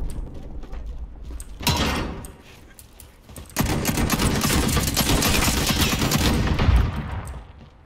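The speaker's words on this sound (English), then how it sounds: "This gunfire." Gunfire in Call of Duty: Modern Warfare erupts in rapid bursts: a short volley, a brief lull, then a long sustained stream of automatic shots, loud and close with mechanical clatter.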